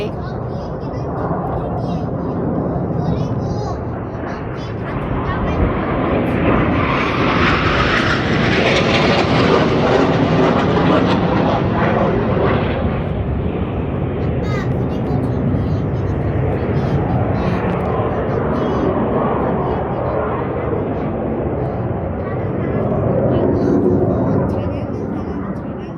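Swiss Air Force aircraft at an air show over Grindelwald roar past in a loud, sustained jet rumble that swells to a peak mid-pass and slowly fades, with people talking faintly beneath it.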